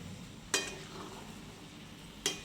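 A spoon scrapes twice against a pan of vegetable upma cooking on a gas stove, giving two sharp clinks over a soft, steady background hiss.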